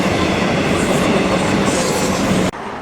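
A train passing on Melbourne's Frankston line, a loud close rumble with a rail clatter that holds steady and then cuts off abruptly near the end, leaving a quieter background.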